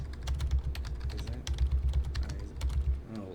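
Rapid typing of a name on a computer keyboard, close and crisp clusters of key clicks in uneven bursts with brief pauses between words.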